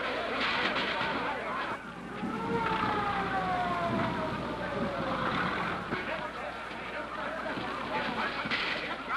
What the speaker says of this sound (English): There's a fire department coming up!